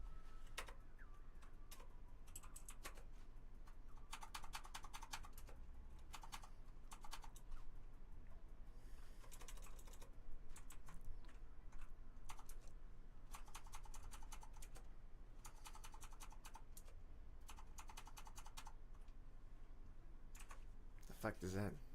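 Computer keyboard typing in rapid bursts and pauses, near and fairly quiet, with a faulty S key that won't register.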